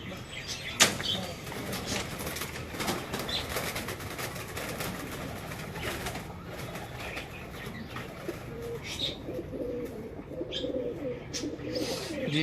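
Pigeons, a prized breeding pair kept by fanciers, coo low and steadily through a busy outdoor scene, with a brief wing flap near the start and faint murmuring voices in the background.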